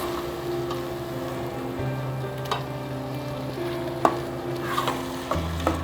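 A tomato and pepper mix gets stirred in a pot during a catering class, steady scraping and soft sizzling running throughout, with a few sharper utensil knocks near the end.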